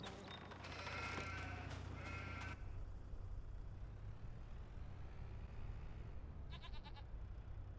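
Sheep in the Farming Simulator 25 video game bleating, a cluster of loud repeated calls early on, then a steady low hum and one more brief bleat near the end.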